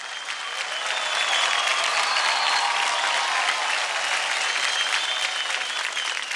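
Audience applause for child dance performers on a televised Indian dance competition stage, a steady, loud, dense clapping that holds evenly for the whole stretch with a faint crowd murmur.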